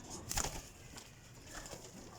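Pigeons kept for show shuffle close by with a soft brief wing flutter and faint cooing in a quiet setting, the sounds low and sparse.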